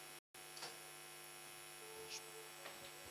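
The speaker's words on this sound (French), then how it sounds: "Vous pouvez arrêter le ventilateur pour moi ici, je n'ai pas besoin. Peut-être pour la salle. Ça fait beaucoup de bruit." An electric fan runs in a church hall, a constant low electrical hum with faint background clatter, broken by one brief dropout near the start, quiet and without talk.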